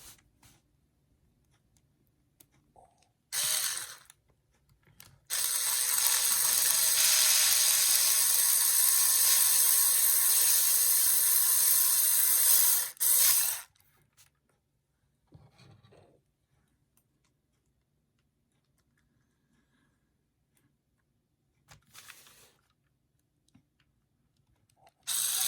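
A power driver whirs for about eight seconds as it drives screws into the bumper of a Tamiya TT-02 Type SR chassis kit, framed by a few short buzzes and quiet handling noises.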